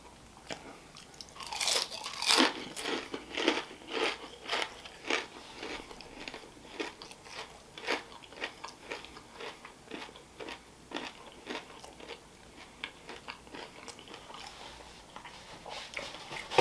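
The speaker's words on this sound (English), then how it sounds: "I'm gonna have one of these seasoned waffle fries" Close, steady crunching and chewing of seasoned waffle fries, with repeated crisp bites followed by softer mastication and no talking.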